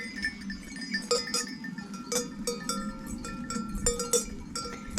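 A flock of sheep grazing near boggy ground, with clanking bells ringing in irregular clusters and bleats rising over a low background murmur, no talk.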